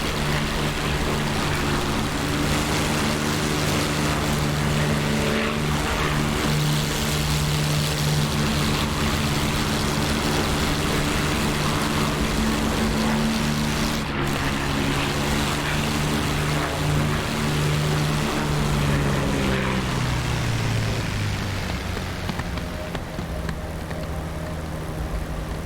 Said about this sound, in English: That compressor stall again.